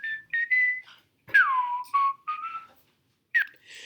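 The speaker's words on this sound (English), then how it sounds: "Someone whistling." Someone whistling a few short rising and sliding tones played back in Chrome Music Lab, clear and close with brief pauses between phrases.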